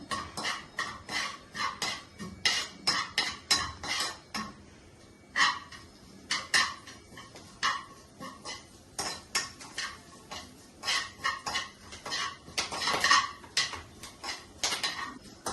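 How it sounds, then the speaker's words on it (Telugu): Stuffed bitter gourd fried with curry leaves in a pan, heard as rapid, repeated clinks and scrapes of a metal spatula against the pan, close and fairly quiet, with no speech. "కరివేపాకు వేసుకుని ఏదైతే స్టఫ్ చేసుకున్నామో కాకరకాయ వేయించి ఒక 1 minute వేయించుకుందాము"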